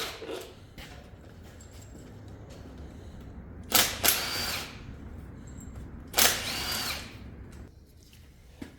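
A power tool spins bolts out of a bracket on a 2013 Chevy Cruze with a 1.4 turbo engine, two loud close bursts of whirring separated by quieter handling noise, no talk.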